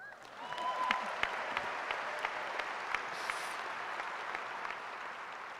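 Sustained applause from a large commencement audience at a university journalism school ceremony, welcoming the graduation speaker; dense, steady clapping fills the hall throughout, with a few louder individual claps standing out near the front.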